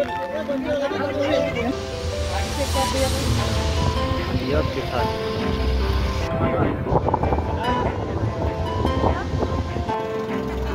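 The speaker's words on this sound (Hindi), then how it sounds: "इथं बहुत तेज हवा चालू आहे" Strong, steady wind buffets the microphone at the Chikhaldhara hill viewpoint, a loud continuous roar running through the whole stretch while people talk over it.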